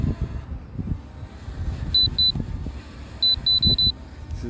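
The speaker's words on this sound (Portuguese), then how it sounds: "Esses bip aí é da câmera, pessoal. Câmera erguendo, a câmera baixando." An L500 Pro drone's camera beeps as it tilts up and down in strong wind: two short beeps, then a quick run of about five, each sharp and clear over a low, gusty rumble.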